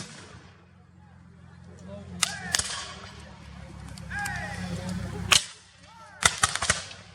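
At a Civil War living history battle reenactment, several sharp, loud cannon blasts ring out one after another, with a steady low rumble and a murmur of voices underneath, then a final burst of closely spaced shots.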